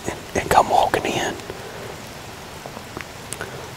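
Steady rain falls outdoors in a field during a deer hunt, a soft continuous patter with a whispered voice briefly over it at the start.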